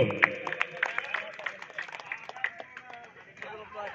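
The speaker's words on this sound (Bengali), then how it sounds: "আবার জোরে একটা হাততালি হোক সমাজ কল্যাণ সমিতির জন্য।" Scattered clapping and crowd noise come from the audience at an outdoor cricket tournament prize ceremony as the winners receive their trophy, with the applause patchy and mid-distance.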